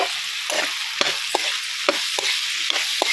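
Potatoes and cauliflower frying in oil for aloo gobi, a bright steady sizzle broken by repeated scraping strokes of a spatula against the pan, close and unaccompanied by speech.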